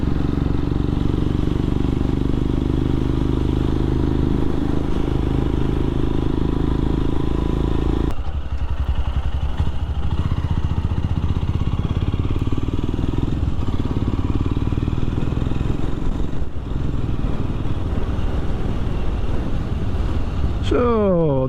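Royal Enfield Scram 411 motorcycle ridden along winding country roads, a loud steady engine drone with heavy wind rush, shifting in pitch as it changes gear partway through.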